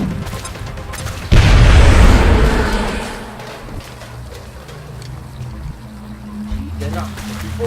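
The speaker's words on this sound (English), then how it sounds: "Actually, I'm gonna try to use the grenade." A grenade goes off in the XCOM strategy game, one loud, heavy boom with a long rumbling decay that fades over about two seconds, leaving low game ambience behind.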